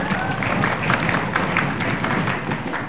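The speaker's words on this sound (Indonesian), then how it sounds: "Baik, tepuk tangan lagi dong." Students and spectators at a high school quiz competition clap together in a thick, steady burst of applause that fills the room evenly for a few seconds.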